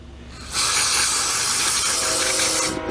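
A steady, loud spray hiss runs for a little over two seconds as a Columbia push lawn mower is sprayed clean, starting abruptly and fading at the end.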